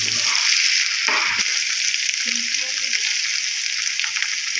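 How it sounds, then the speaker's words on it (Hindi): Onions fry in a pan with garlic-ginger paste, giving a steady bright sizzle with a few scraping stirs, close up and moderately loud. "इसमें फ्राई हो गया है, लेकिन प्याज थोड़ा सा और ब्राउन कर लें हम"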